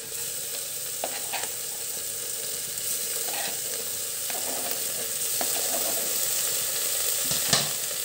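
Tomatoes go into a pan of sautéed onions and garlic for masala fish, raising a steady, close sizzle with scattered stirring clicks and scrapes throughout, and no voices.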